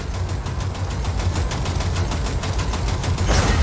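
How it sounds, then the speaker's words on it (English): In Cyberpunk 2077, rapid automatic gunfire shoots out a coupler, a fast, steady stream of closely spaced shots over a low rumbling engine-like drone. "V, shoot out the damn coupler."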